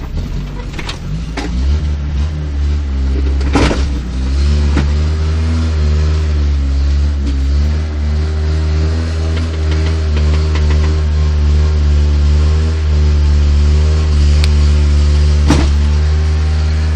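An old Chevrolet Opala's engine revs loudly and steadily from inside the car as it drives, a deep rumbling drone with rising and falling pitch and a few sharp knocks, with no talking.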